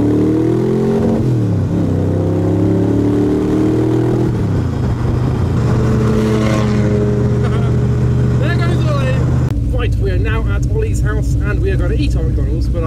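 An AC Cobra sports car engine droning and rising through gear changes while driven slowly, loud and close, with a pitch shift partway and people talking over it.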